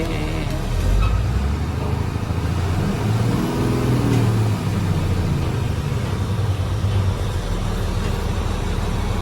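A truck is pulled out in a market area in Bhuj, its engine rumbling loudly and revving up and down amid steady traffic noise close by.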